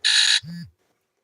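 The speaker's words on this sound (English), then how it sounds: "that's 4 or 5 different alarms that keep going off to remind me to do something" Several phone reminder alarms go off in a brief burst: a loud, bright electronic buzzing tone for about a third of a second, then a softer lower tone, followed by silence.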